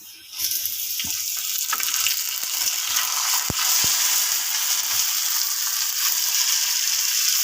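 Tomatoes tipped into a pan of browning garlic for chicken kaleji masala, setting off a steady, loud hiss of frying with a few soft knocks from the pan.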